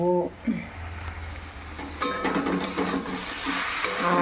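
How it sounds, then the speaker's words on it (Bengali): Jute leaves (pat shak) frying in a home kitchen pan, with a soft sizzle under scraping and stirring clatter from a utensil against the pan, fairly faint and close. "এখন করছি পাট শাক ভাজা"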